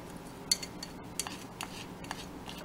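A small spatula mixes breastmilk into a thick jewelry paste, giving faint, scattered clicks and light scrapes against a small container, soft and close with quiet gaps between strokes.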